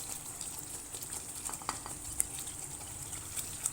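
Masala with sliced tomatoes frying in a pan, a soft continuous sizzle with occasional stirring scrapes and light clinks, fairly quiet with no voices.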